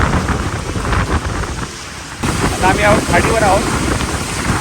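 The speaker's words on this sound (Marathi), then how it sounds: "फुल पाऊस आहे एकदम." Heavy rain pours steadily beside a creek, a loud broadband hiss filling the whole span while someone talks over it.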